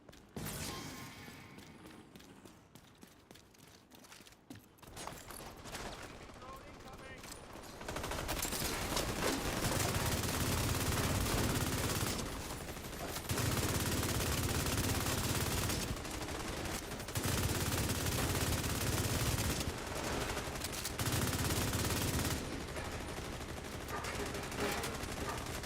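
The Bighorn gun fires in a video game, sustained loud automatic bursts with brief gaps over roughly twenty seconds, following a quieter stretch of game ambience.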